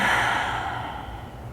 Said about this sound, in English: Let the breath fall out your mouth